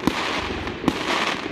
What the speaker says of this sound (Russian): Нифига себе салютик.